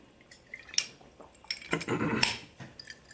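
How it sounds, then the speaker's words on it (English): Someone takes a drink of water to soothe a sore throat, giving a few close, soft gulping and liquid sounds with a brief clink, alone and without talk. "So let me just take some water because I've got a bad throat."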